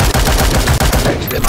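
Support fire in World War Heroes on Android: loud, close automatic gunfire rattles in rapid continuous bursts, with two short breaks between volleys.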